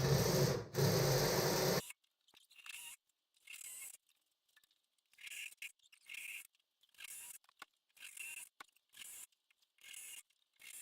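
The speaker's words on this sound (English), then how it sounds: "Using a 1-inch hole saw, drill and cut all locations specified by the template." Intermittent bursts of a drill grinding through a Poison Spyder sheet-metal hood with a 1-inch hole saw for louver installation, short whining cuts separated by silent pauses; a loud rumble opens it.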